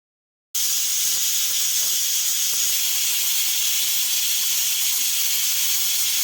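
A pressure cooker with kohlrabi and meat inside lets out a loud, steady hiss of escaping steam that starts abruptly and holds at full strength close by, with no talk over it.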